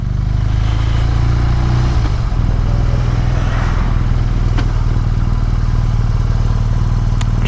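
A BMW R NineT 1200 Pure motorcycle cruises along a coastal road, its engine holding a steady, loud low drone mixed with rushing wind noise throughout, heard from on board.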